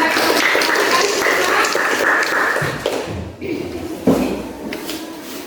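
A school class applauds in a burst of clapping that thins out after a few seconds, followed by scattered taps and knocks, with murmuring voices in the room.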